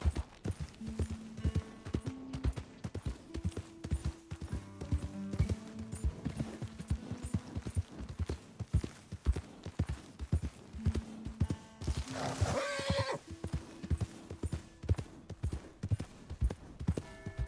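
Horse hooves clip-clop steadily at a walking pace in Red Dead Redemption 2, continuous rhythmic footfalls under low game music, with a brief whinny-like burst partway through.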